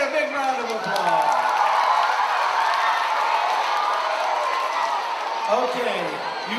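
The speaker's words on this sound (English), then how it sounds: "Let's give Nancy a big round of applause." Indoor audience at a Mardi Gras-themed music show cheering and clapping, a broad crowd roar with whoops filling the space, voices mixed in.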